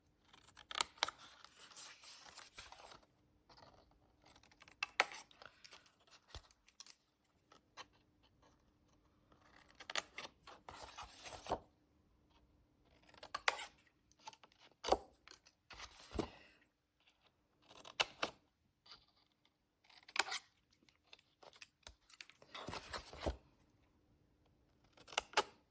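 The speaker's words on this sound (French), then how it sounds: "Je vais couper donc comme ceci" Scissors cutting through cardboard in a desk organiser craft make repeated crisp snipping crunches in irregular bursts, close and clear, with quiet pauses between cuts.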